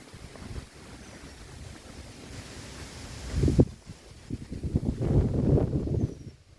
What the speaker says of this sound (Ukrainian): Ну це вже точно були хвилі.